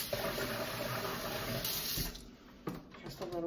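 Water pours steadily from a tap while rinsing a brush for watercolor painting, a close broadband rush lasting about two seconds before easing off into quieter trickles and small splashes.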